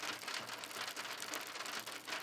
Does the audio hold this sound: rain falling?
yes